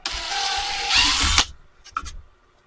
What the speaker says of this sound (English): Just drill that out a little bit,